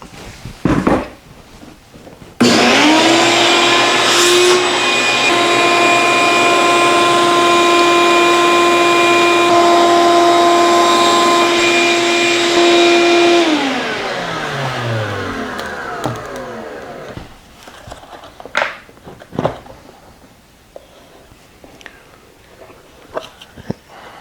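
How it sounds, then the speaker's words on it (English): A shop vac fitted with a Dustopper bucket separator runs loudly and steadily for about eleven seconds as it sucks up sawdust, then winds down with a falling whine, leaving a few clattering handling noises. "I'm gonna suck this up with the Dustopper and see how much ends up in the shop vac and how much ends up in the bucket"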